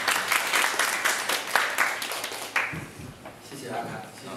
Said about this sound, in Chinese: 那我们再热烈掌声欢迎启辟